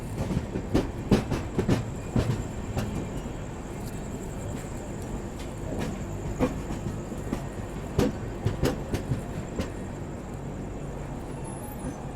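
The Udhna Banaras Express, a passenger train, pulls into a station, its wheels giving a loud, near rumble with repeated clickety-clack knocks that thin out over about twelve seconds.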